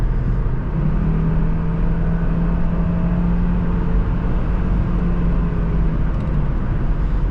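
A 2001 Volvo V70 XC with the 2.4T engine cruising on a test drive, a steady low engine drone and road rumble heard from inside the cabin, continuous and even throughout.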